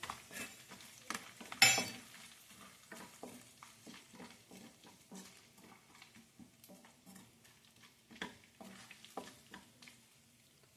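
Four cloves and two bay leaves frying in a pan, a soft sizzle broken by irregular scrapes and taps of a stirring spoon against the pan, with one sharper clink near the start, close and fairly quiet.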